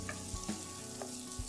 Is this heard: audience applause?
no